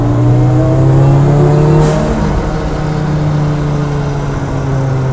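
A Kimera EVO 37 Group B-style rally car engine, 505 hp, drones steadily with strong low harmonics, the pitch dipping slightly then holding as the motor revs under load, loud and close.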